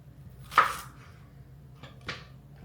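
A knife cuts a section from a huge yellow onion on a board for homemade salsa: one sharp, close chop followed by a lighter knock and a second cut a moment later.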